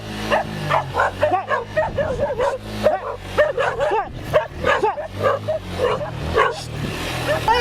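Several dogs bark and yip in an excited, overlapping stream as they chase a delivery rider, with short whimpers mixed in and some faint voices underneath.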